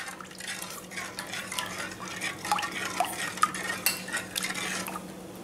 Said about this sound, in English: you just go on stirring, otherwise the curd breaks inside